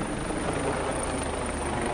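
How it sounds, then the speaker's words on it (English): A water-dropping firefighting helicopter drones steadily overhead in Los Angeles, a continuous loud rotor and engine roar with no talking. "There's a helicopter overhead now."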